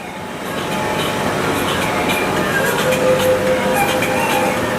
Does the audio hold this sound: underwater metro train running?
yes